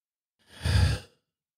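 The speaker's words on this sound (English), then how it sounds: "Nice deep breath." One deep breath drawn and let out during a guided tapping session, a single soft airy sigh lasting under a second, close and alone with no talk.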